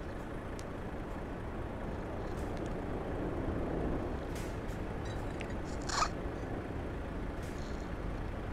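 Traffic noise from a sound mod in Euro Truck Simulator 2, a continuous low rumble of passing vehicles with a few faint hisses and clicks, and one short sharp sound about two-thirds of the way through.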